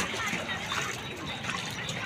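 Very hot spring water at Vajreshwari pours and splashes steadily throughout, a continuous hiss of running liquid close by, with people talking over it.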